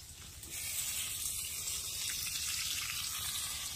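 Fish sizzles in a pan over an outdoor cooking fire in a jungle by a boat, a steady broadband hiss that holds at an even moderate level, with no talk over it.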